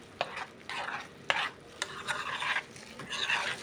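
A spoon scrapes and stirs kofta meatballs through tomato sauce in a pan, in irregular scraping strokes with sharp clinks against the metal over a quiet simmer.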